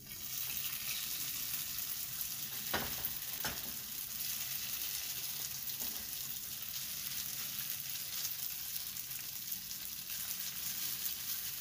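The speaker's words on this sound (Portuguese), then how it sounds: "Coloquei óleo na frigideira. Deixei esquentar um pouquinho. Agora eu vou colocar a batata." Grated potato hits hot oil in a frying pan for a rösti, producing a steady, dense sizzle throughout with a couple of brief scraping or stirring clicks.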